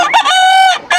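A fighting rooster at a Bocaue farm crows loudly and close by, one full cock-a-doodle-doo with a clucking start and a sustained ringing middle, then a second crow begins right after.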